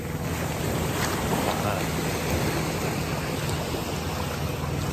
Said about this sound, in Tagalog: Ayan yung dagat o.